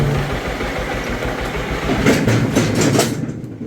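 A John Deere LT160 lawn tractor idles as it climbs onto a lift, a steady low engine chug with rattling and a burst of clattering near the end before it cuts off.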